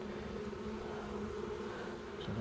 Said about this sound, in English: we have two good frames of bees there